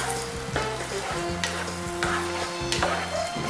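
Butter melting and sizzling in a hot pan over freshly cooked risotto, a steady dense hiss with faint tonal ringing and occasional soft clatters underneath.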